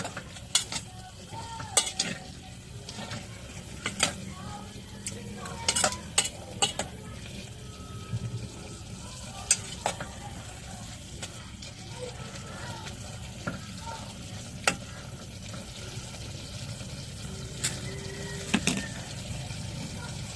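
Soy sauce stirred in a hot frying pan, a constant sizzle broken by repeated sharp clinks and scrapes of a utensil against the pan, fairly close, with a voice speaking now and then.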